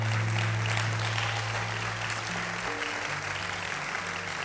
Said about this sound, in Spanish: Vamos a darle un aplauso fuerte al Señor.